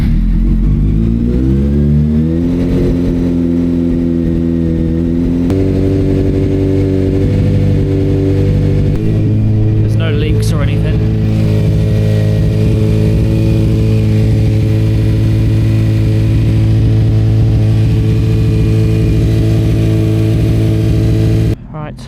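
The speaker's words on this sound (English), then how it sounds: "let's go try out this new foot peg and see if the bike is still running." A motorcycle engine, just repaired after a crash, runs loudly and steadily near the listener, idling and revving with shifting harmonic pitch throughout.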